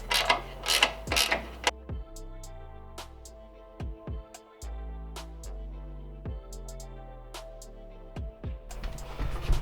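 A ratchet with a 5mm Allen socket works bolts loose on an Indian Springfield Dark Horse motorcycle, giving repeated bursts of close, crisp metallic clicking with short pauses between strokes.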